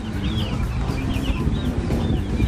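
Breeding hens clucking and chirping nearby over a low rumble of wind and outdoor background noise.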